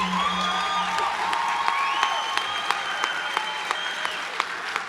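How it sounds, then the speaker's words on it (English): An audience at an evening school event claps steadily for a newly introduced high school principal, a dense wash of applause with sharper individual claps and a few whoops and whistles. "Give her a round of applause, ladies and gentlemen."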